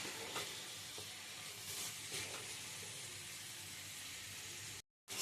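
Onions and green chillies frying in a pan, giving a steady close sizzle with a few scrapes of stirring, then a brief break of silence near the end.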